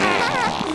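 A video game fart sound effect, a loud, raspy, buzzing tone lasting under a second, heard alone without talk.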